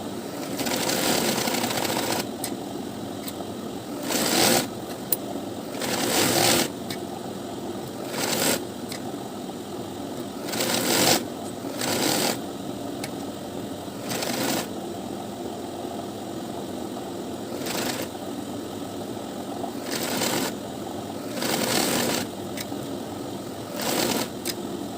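A sewing machine stitches a blouse lining in long steady runs of fast mechanical whirring, broken by brief pauses and louder bursts as the fabric is repositioned.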